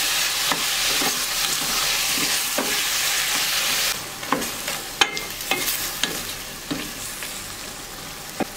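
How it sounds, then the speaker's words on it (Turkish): About 700 grams of chicken sautéing in a pan over high heat, a steady close sizzle broken by sharp clicks and scrapes from stirring, with no talking. "Altını yüksek ayara getiriyorum. Sulanmaması için kavuruyorum."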